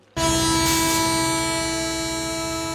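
A train in a film scene bursts in suddenly with a loud, sustained horn blast, its steady tonal blare continuing over rumbling rail noise until the end.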